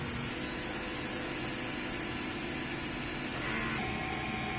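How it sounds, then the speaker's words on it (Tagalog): Steady, loud mechanical whirring and hum from a printer's motors and pump, running continuously with a slight shift in tone near the end. "Ganito naman ang pag head clean."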